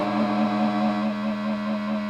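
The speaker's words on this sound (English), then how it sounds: "Turn the distortion up. Oh my god, it's just oscillating on itself forever." Catalinbread Coriolis guitar effect pedal with its distortion turned up, self-oscillating: a steady, unbroken droning tone with strong harmonics that sustains on its own at moderate loudness.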